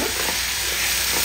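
Peas and tomatoes fry in a pan for vegetable pulao, a loud, close, continuous sizzle and hiss that runs through the whole short stretch with no voice over it.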